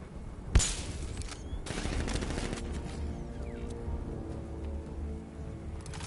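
Hacked sentry gun shooting in Arkham Knight, a sharp loud crack followed by a dense stream of rapid mechanical firing that holds steady over several seconds.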